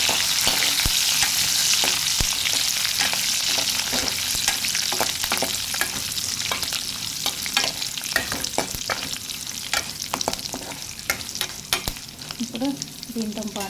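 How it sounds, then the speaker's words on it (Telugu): Curry leaves are stirred into a frying curry: a steady, close sizzle of hot oil throughout, with frequent sharp clicks and scrapes of a spoon against the pan. "కరివేపాకు అనేది వేసేసుకుందాం. కర్రీలో కలిపేసుకుందాం."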